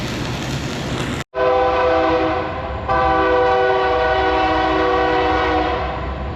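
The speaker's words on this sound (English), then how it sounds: "here's the train." A train rumbles past close by, sounding a long, loud, steady horn blast that briefly cuts out and then resumes.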